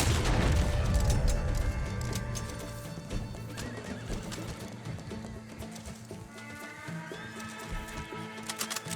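Horse in the Red Dead Online video game neighing and whinnying, with clip-clopping hooves and faint distant gunfire, fairly quiet throughout and with no talking.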